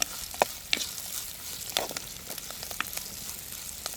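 Curry leaves and rampe frying in a pan at a village cookout, a quiet continuous sizzle broken by a handful of sharp scrapes and pops as the spoon stirs.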